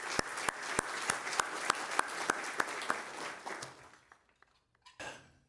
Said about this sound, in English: Let's give one more round of applause to all the board members and the members of our boards and commissions